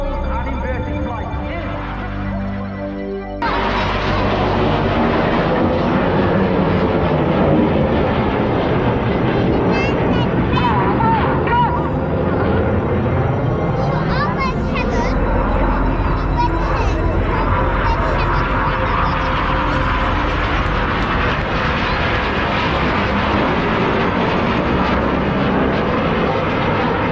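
Air show aircraft making a final low pass at about 100 feet, a loud sustained engine roar that swells and rolls across the whole stretch, with a commentator talking over it.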